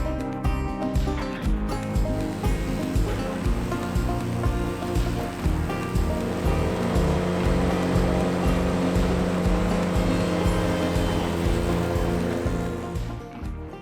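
A lake mowing machine runs on open water with a steady, rough mechanical churn and splashing wash, loud and close throughout.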